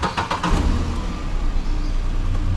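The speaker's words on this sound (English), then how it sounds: "Now I have started the engine and plugged it inside the" A car engine idles steadily with a running tyre inflator plugged in nearby, a loud continuous low rumble with a few sharp ticks at the start and no talking.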